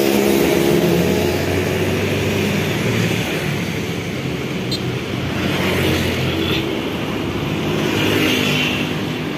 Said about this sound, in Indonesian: Dan menyusul di belakang ternyata bus Dewan Barat.